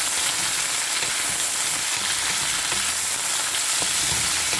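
Garlic, red peppers, tomatoes and green onions saute in a hot pan for a chicken tinola, giving a loud, dense, unbroken hiss with faint stirring clicks, close-up and without any talking.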